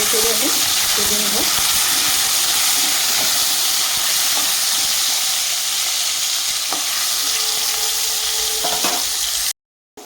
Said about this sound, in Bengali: আলুগুলো সুন্দর করে ভাজা হয়ে গেছে